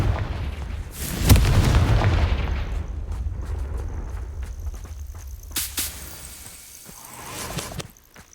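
A Confringo spell in Hogwarts Legacy erupts with a sharp, loud crack and a rolling blast that slowly decays, followed by a second sharper burst and a softer rumble near the end.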